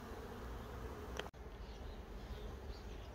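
Honeybees hum around hive splits in an apiary, a low, continuous drone of many insects with a single sharp click partway through and no voices.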